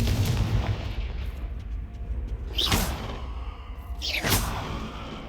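Two Confringo blasting spells fire in Hogwarts Legacy, each a sharp whooshing blast and boom about a second and a half apart, loud and close over a rumbling game background, with no talk.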